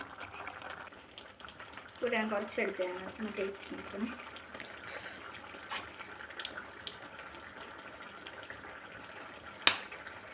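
A pot of brinjal theeyal curry, made without coconut, bubbles and simmers steadily at a low level, with a voice talking over it for part of the time and a brief clatter near the end.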